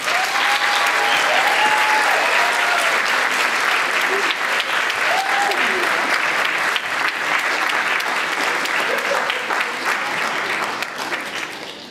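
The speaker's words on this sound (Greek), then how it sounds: "Θα ήθελα ένα δυνατό χειροκρότημα για την βοηθό μου, την κυρία Κορίνα Μελοδοκερούσα." Loud, dense applause from a concert audience for a performer, sustained evenly for about twelve seconds with faint vocal or instrumental tones underneath, then tapering slightly at the end.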